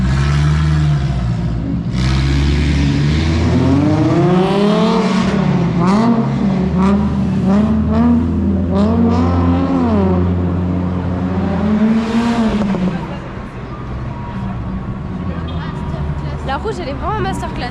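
Several cars revving hard near a street in Kyoto, Japan, engines rising and falling in repeated loud surges before pulling away, with people talking over the roar throughout.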